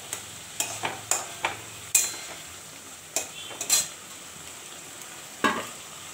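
Hilsa fish with turmeric in hot oil gives a low background sizzle, broken by a series of sharp metallic clinks and scrapes of a utensil against the pan, close and irregular, with no talk.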